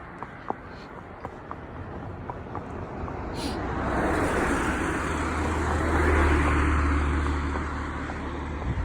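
Road traffic passes a horse and rider out hacking alone: a steady roadside hum swells as a vehicle approaches and rumbles by, then eases off, with occasional sharp clicks over the top.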